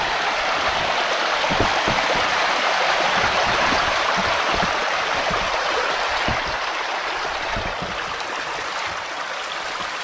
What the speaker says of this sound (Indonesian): Kita akan coba telusuri sungai ini.